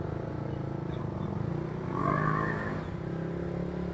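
A Yamaha Sniper 155R motorcycle pulls a power wheelie on the highway, its engine drone holding steady and then swelling briefly as it revs up before settling back, heard at moderate distance without talk.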